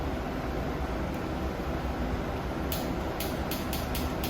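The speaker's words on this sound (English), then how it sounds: "You can hear the solenoid clicking." Starter solenoid on a Coolster ATV clicking with a jump pack connected, a rapid run of sharp clicks in the latter half over a steady noisy hum.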